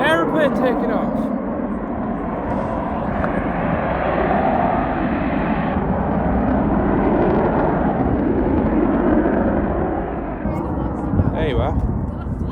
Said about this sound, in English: that was indeed an RAF jet fighter taking off